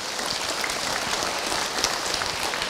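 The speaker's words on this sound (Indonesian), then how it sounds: "Tepuk tangan buat ibu yang bertanya." Audience applause for a woman who just asked a question at an Islamic lecture, a steady, even wash of clapping that sounds moderately distant and holds level throughout, with no clear voices on top.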